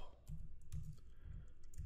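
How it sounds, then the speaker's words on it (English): Computer keyboard typing, a run of soft irregular key clicks and thumps at close range, fairly quiet. "We key down the shift key. Now we key up the shift key."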